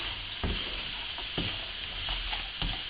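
Almonds being stirred with sugar in a pan while making candied almonds, with a soft steady sizzle broken by a few sharp scraping knocks of the spoon at irregular intervals.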